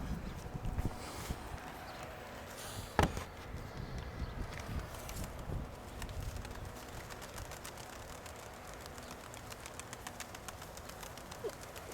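Pigeon calls rise out of a busy, noisy outdoor background, broken by one sharp knock early on.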